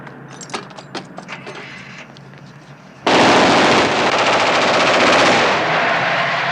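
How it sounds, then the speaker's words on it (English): Loud, sustained machine-gun fire erupts in a 1970s blaxploitation crime film climax, following a few seconds of quieter sharp clatter and scattered shots, then roaring continuously and dense at close range. "when we get to the climax in the third act, he once again starts gunning people down."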